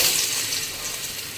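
Cut potato and pumpkin fry in hot mustard oil, giving a steady bright sizzle and crackle up close with no voices.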